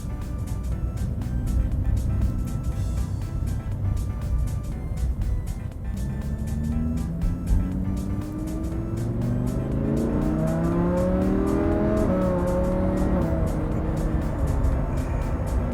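A Lamborghini sports car driving on an open road, its engine droning steadily up close, then climbing through rising revs as it accelerates in the second half, with no talk.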